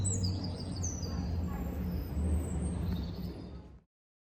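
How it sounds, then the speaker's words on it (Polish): Birds chirp and twitter in short high calls on a quiet old street in Montmartre, Paris, faint over a low rumble of distant traffic and a vehicle's hiss before the sound cuts off. "Ptaki w Paryżu."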